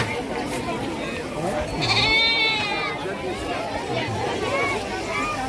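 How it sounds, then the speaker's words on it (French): Sheep bleat repeatedly at a wool fair where they are being shorn, one wavering cry loud and close, amid a chattering crowd and general fairground noise. "Les moutons de cette foire de la laine qui vont être tous tondus tout au long de la journée"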